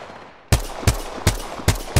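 Five loud, evenly spaced gunshots in the shooter game Apex Legends, sharp close cracks at a steady pace following a brief quiet moment.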